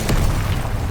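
Incendio fire spell cast in Hogwarts Legacy, a single loud whooshing burst up front followed by a sustained low rumbling roar, with no talk.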